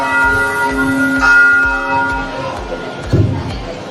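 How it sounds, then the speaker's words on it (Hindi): A church bell rings near a playground where children are playing, its sustained ringing tones layered over a steady rhythmic background pulse and a brief louder burst near the end. "तभी चर्च की घंटी बजी।"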